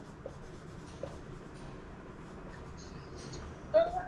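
A pen writing on paper, faint scratchy strokes with soft taps, close and quiet under low background noise, ending with a brief louder scrape.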